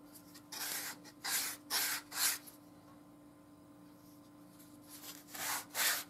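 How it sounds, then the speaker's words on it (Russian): Sandpaper rubbed by hand along the edge of a sheath piece, several short scratchy strokes in bursts with quiet gaps between, close and fairly soft, no talking. "То есть снятый край наждачкой."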